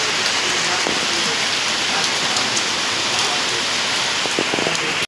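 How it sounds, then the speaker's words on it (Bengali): A heavy downpour roars steadily and loudly, a thick constant wash of rain hammering nearby surfaces for several seconds before cutting off abruptly, with no voices. "দেখতে পাচ্ছি ধুম বৃষ্টি হচ্ছে, ধুম"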